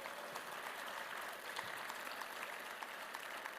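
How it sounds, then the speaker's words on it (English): Sustained audience applause at a political summit, a dense, even wash of many hands clapping at moderate distance with no break, carrying on steadily for a few seconds. "You could give him a round of applause."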